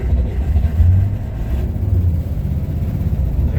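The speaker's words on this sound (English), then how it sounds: "It's a cold start after about 2 months." The engine of a 1965 Corvair Monza rumbles after a cold start following two months of sitting, a close, low, uneven idle with slight revving surges throughout and no voices.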